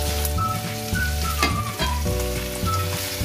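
Thin, wide slices of meat hit a pan of softened onions for chopsuey, setting off a loud close sizzle and spatter with a few stirring scrapes over a low background hum.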